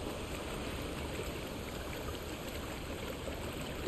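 A waterfall in the video game Conan Exiles gives a steady, faint rushing wash of water, continuous and even throughout with no voices over it.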